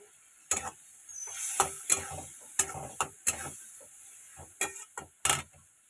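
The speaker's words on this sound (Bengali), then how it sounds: "এই যে চিংড়ি মাছটা একটু ভাজা হয়ে গেছে" Shrimp frying in a pan while being stirred, with a steady hiss of sizzling broken by sharp, irregular scrapes and clatters of a utensil against the pan.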